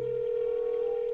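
A phone being dialed gives off a steady, continuous electronic tone like a dial tone, fairly loud and unbroken throughout, with no voices.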